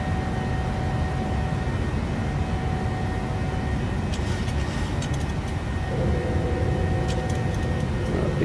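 A PMDG 737-800 airliner taking off in Microsoft Flight Simulator, a steady loud engine roar and rumble that holds throughout, with faint clicks and a tone shift near the end and no talking.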